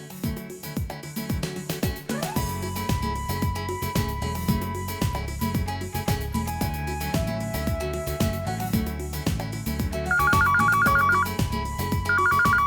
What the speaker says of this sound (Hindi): फोन आ रहा है, देखना।